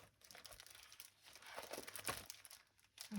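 Decorative paper crinkling and rustling as it is handled, faint close-up crackles and soft crunches in uneven bursts, with no talk.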